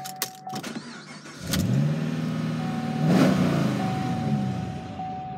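A 2010 Kia SS with a 6-speed manual cranks briefly and starts, then the engine rises into a close, loud rev and settles back to a steady idle.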